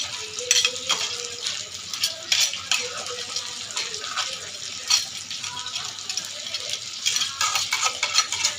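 Crab pieces fry in a pan, a faint steady sizzle with occasional scraping and stirring clinks from a utensil, close and continuous for several seconds.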